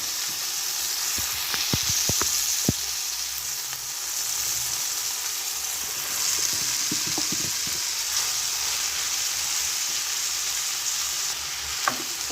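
Steady sizzling of mushrooms frying with chicken in a pan for a sauté, a continuous bright hiss with a few sharp pops and clicks from stirring.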